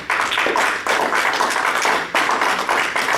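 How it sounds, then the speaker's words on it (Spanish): A church congregation claps together in applause, a dense, steady patter of hands that swells in waves across the few seconds, loud and close with no talk over it. "¿Cuántos dan un aplauso al Señor?"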